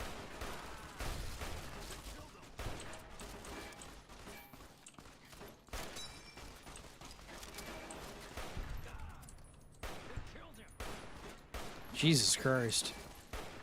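Rapid bursts of SMG fire in a shooter video game crackle intermittently under casual talk from players, with a sharper, louder flurry near the end.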